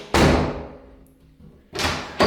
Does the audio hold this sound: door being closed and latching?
yes